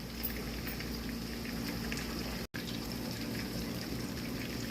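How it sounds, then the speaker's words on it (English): Fish frying in oil in a pan, a steady close, broadband sizzle and crackle running without pause except for one momentary cut near the middle. "take your time and fry it nice and, you know, you want a good little fry on it just like that too"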